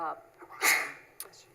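A single sneeze in the middle of a town board meeting, sharp and fairly faint, coming right after quiet speech in the room, with a soft breath or click afterward.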